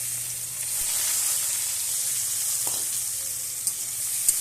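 Ingredients for a fish-head ghonto with bitter gourd hit hot oil and give a steady, bright sizzle and hiss, with a couple of faint knocks near the end.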